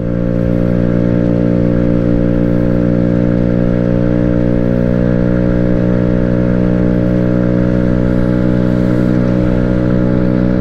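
An Amstar Nostalgia 50cc scooter revs high and steady while being ridden, its small engine holding a loud buzzing drone with strong harmonics, easing off slightly partway through on a gentle hill.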